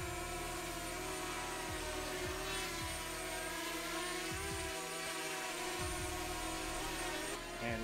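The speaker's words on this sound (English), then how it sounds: "that's the drone in flight" A DJI Mavic Mini drone flying in strong Wellington wind gives a steady, loud whirring drone that fills the whole stretch, with wind buffeting rumbling low underneath and no talk.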